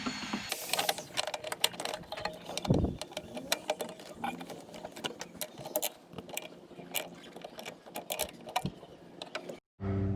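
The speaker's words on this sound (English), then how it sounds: "So now I'm going to be tightening up this tubing that goes to the clutch master." A wrench tightens the clutch master cylinder tubing on a 1991 Toyota Tercel, giving rapid, irregular ratcheting clicks and metallic taps close up for about ten seconds, with a dull thump near the start and no speech.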